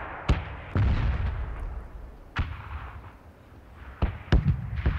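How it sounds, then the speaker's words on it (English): Several sharp booming blasts burst out at irregular intervals over a rumbling background, explosions in PlayerUnknown's Battlegrounds, with no talking. "That's a lot of explosions."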